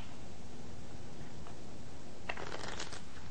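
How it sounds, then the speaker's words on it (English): Playing cards being shuffled by hand, a crisp burst of riffling flutter toward the end after quieter handling rustles, close and fairly soft against a low room hum. "Would you shuffle the cards?"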